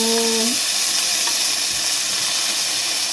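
Onion, tomato and bell peppers dropped into hot oil in a pot burst into a loud, steady hissing sizzle that continues throughout, with a brief tonal hum at the very start.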